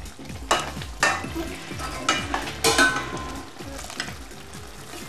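A black squid ink risotto is stirred on the stove, with rhythmic spoon scrapes over a soft, steady simmering sizzle, heard close and without talk.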